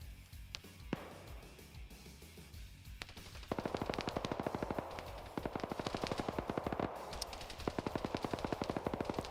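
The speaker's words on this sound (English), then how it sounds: "You saw the machine gun fire landing close by him." BRDM armored vehicle machine gun firing in a PvP video game match, a few isolated shots followed by long rapid bursts of loud automatic fire with brief pauses between them.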